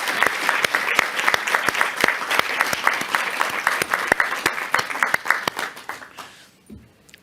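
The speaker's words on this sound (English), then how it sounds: "So, Roni, please come and join me on the stage and give us Roni a round of applause." An audience claps for Roni Savage as she is invited onto the stage, a sustained round of sharp, close applause with distinct individual claps that thins and fades out near the end.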